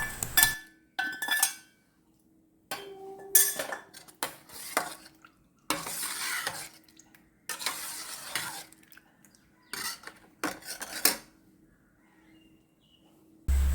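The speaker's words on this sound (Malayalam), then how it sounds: "നമ്മൾ അരിഞ്ഞു വെച്ചിരുന്ന പഴവും കൂടി നമുക്ക് ഇതിലേക്ക് ചേർത്ത് നന്നായിട്ടൊന്ന് ഇളക്കി യോജിപ്പിച്ചെടുക്കാം" Chopped banana being stirred into a milk drink in a bowl, bursts of spoon scraping and clinking against the dish separated by short pauses, close and fairly quiet.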